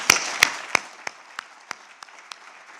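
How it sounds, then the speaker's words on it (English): A few spaced, fading claps from an audience at a vaccine dialogue event, sharp at first and then thinning to isolated single claps. "give the speakers and our two presidents a good round of applause"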